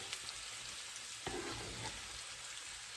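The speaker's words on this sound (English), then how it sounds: "So I'm going to let these potatoes fry a little bit more and they'll be done." Potatoes frying in a pan, a steady quiet sizzle with a short stir or scrape partway through.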